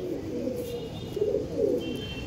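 Continuous throaty cooing from a group of old-line owl-face Madras pigeons, close and moderately loud, swelling in a few rolling phrases over its short span.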